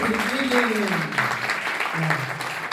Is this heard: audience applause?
yes